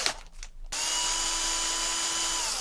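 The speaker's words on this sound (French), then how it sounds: "Fidèle et plus vieille perceuse Parkside." An old Parkside power drill kicks in abruptly after a brief pause and runs at a steady, loud, high-pitched whine, continuous and close, with no talk over it.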